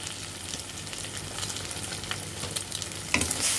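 Eggs fry in hot oil with toasted black cumin in a pan, giving a steady close sizzle with occasional stirring scrapes, no talking.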